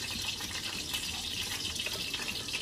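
Boiled corn kernels being drained of their cooking water through a strainer, a steady close rush and splash of pouring water with light dripping, no voices.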